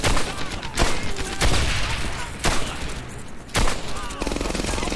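MG42 machine gun fire in the Medal of Honor: Airborne video game, loud sharp bursts and sustained rattling volleys with several heavy separate blasts across the stretch, no talking.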